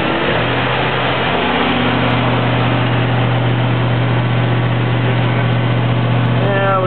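A propane-fuelled GMC truck engine runs at high idle, a steady, loud drone with a constant low hum close by, while voices are heard faintly in the background.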